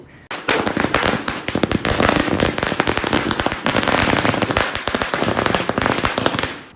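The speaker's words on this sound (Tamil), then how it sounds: "ரோட்டில் வந்து சரவெடி வச்சாங்க" A long string of firecrackers (saravedi) goes off on a road during Diwali, a dense, loud, continuous rattle of rapid bangs and crackles lasting several seconds without pause.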